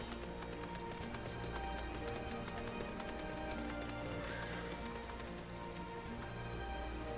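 A horse gallops in Final Fantasy XIV, steady rhythmic hoofbeats on the ground under a continuous game background drone, moderately loud and sustained with no pause.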